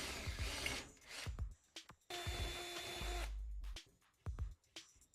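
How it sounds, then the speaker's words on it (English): Power drill boring two overlapping holes in a wooden door to form a keyhole: short, uneven bursts of motor whine and chewing wood, separated by brief pauses, fairly close and moderately loud. "Make the keyhole the correct size by stitching 2 holes together."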